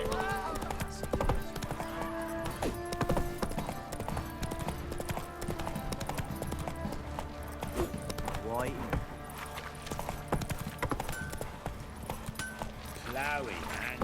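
Roach the horse gallops in The Witcher 3, rhythmic hoofbeats clip-clopping steadily through the scene amid game music and effects, with a whinny and voices talking over it.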